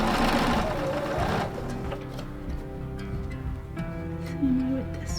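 A sewing machine with a seam guide stitches quilt sashing, its motor whirring in a steady close rhythm that eases and slows briefly before running on.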